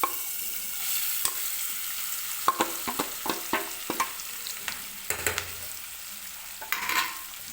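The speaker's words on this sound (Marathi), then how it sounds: "तर आता ही आपण शिमला मिरची जी मसाला वगैरे लावून ठेवली होती ती याच्यामध्ये टाकून घ्यायची आहे पॅनमध्ये." Spiced capsicum for a restaurant-style curd dish sizzling softly in hot oil in a pan, with a run of sharp clinks and scrapes as it is stirred with a utensil, quiet and close.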